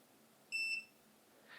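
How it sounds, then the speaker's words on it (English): An Ecoflow Delta 2 portable power station gives one short, clear electronic beep as an output is switched, standing out briefly from quiet room noise. "You'll hear the unit beep and that output will be turned on or off."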